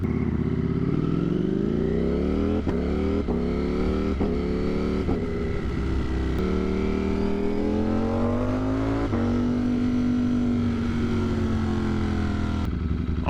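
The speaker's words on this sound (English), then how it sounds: "The pops are insane in this thing." A Ducati Desmosedici Stradale motorcycle, untuned with an aftermarket exhaust, revs hard and loud up close, its engine note climbing through the gears with sharp crackling pops between shifts.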